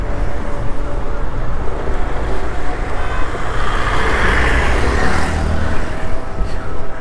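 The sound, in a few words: road traffic on the Pamban bridge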